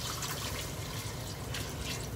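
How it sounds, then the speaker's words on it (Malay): Water runs steadily into a pot while tomato rice is cooking, a faint, continuous splashing hiss with no pauses and no voices. "Kita masukkan air"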